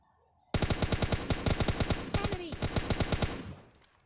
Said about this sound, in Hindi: आगे से कुछ गोलियों की आवाज़ आ रही थी